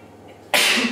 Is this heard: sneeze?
yes